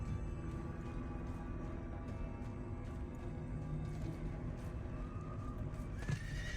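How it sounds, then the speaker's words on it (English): Player's horse in the Diablo IV video game neighs in a long whinny over a constant game ambience, with clip-clop hoofbeats and a sharp closing effect near the end. "Oh, I could ride my horse?"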